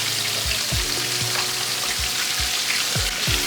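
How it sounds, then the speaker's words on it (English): Breaded ribeye chicken fried steak fries in hot oil, a steady close sizzle with a faint crackle running evenly throughout and no voices. "to fry away while we finish up the rest of our dinner"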